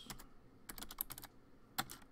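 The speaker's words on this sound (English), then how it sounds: "You type in CMD and run as administrator. Then you type in net local group" Short bursts of typing on a computer keyboard, a few quick clusters of close key clicks with small gaps between them, quiet and free of talk.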